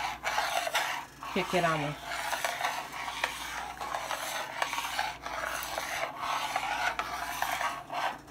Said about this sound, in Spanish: Aquí batiendo y batiendo hasta que agarre el espesor